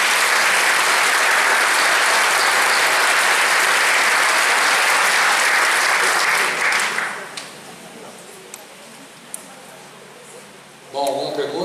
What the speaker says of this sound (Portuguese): Então gostaria que vocês aplaudissem